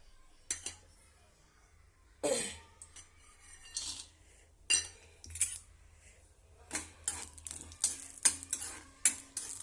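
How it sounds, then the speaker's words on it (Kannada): Peanuts fried in oil in a kadai, heard as intermittent stirring scrapes and metallic clinks of a spoon against the pan over a faint low sizzle, close by with short pauses between strokes. "ಶೇಂಗಾ ಬೀಜ ಫ್ರೈ ಮಾಡ್ಕೊತೀವಿ ರೀ ಫಸ್ಟಿಗೆ"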